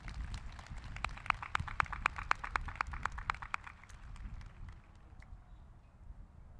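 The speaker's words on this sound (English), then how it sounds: "Let's give them all a round of applause" Applause from a crowd at a university commencement ceremony, a dense run of claps that is strongest at first and then thins and fades over several seconds.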